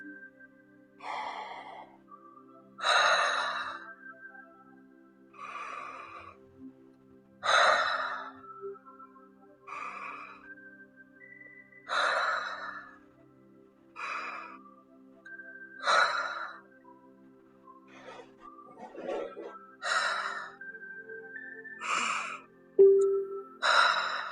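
Deep belly breaths are taken slowly and steadily, about a dozen long, close inhales and exhales in an even rhythm with brief pauses between, with no talking.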